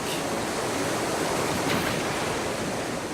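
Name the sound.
rushing river waves of the Eisbach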